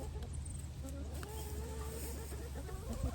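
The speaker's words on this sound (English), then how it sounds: "but the sound of happy chickens, I love it" Happy backyard hens in a run make soft, scattered clucks and short calls close by, over a steady low rumble of background noise.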